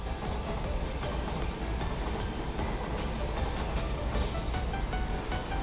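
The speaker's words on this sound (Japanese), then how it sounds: "阪神電車ですねが通過していきました" A Hanshin train rolling past on an elevated track, a continuous low rumble and rattle of wheels with scattered clanks, steady and fairly close throughout.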